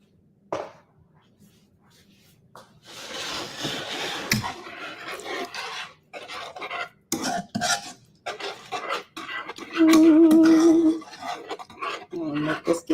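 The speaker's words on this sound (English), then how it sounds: "We're gonna whisk this together." Whisking seafood pot pie filling in a pot, a metal whisk scraping and rattling against the pot in quick irregular bursts, loud and close, with a short sizzling or bubbling patch late on.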